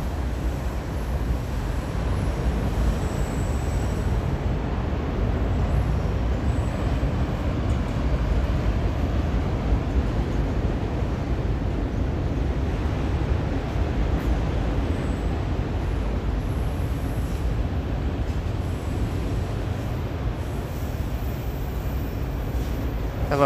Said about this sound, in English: Look at this train is still going.